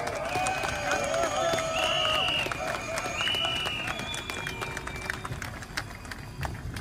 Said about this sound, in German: Ein ganz großen Applaus.